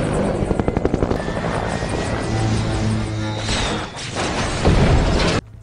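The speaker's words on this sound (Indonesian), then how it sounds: "helikopter itu jatuh." A helicopter crashing in the 2011 film Rise of the Planet of the Apes: rapid rotor chopping and a whining engine fill the scene, rising into a loud rumbling, crunching impact before cutting off abruptly.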